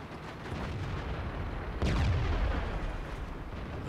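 In World of Tanks, a single deep tank cannon shot booms at close range and rolls out over steady battlefield rumble, with no voices.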